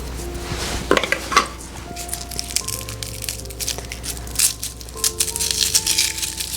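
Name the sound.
smashing garlic cloves with a knife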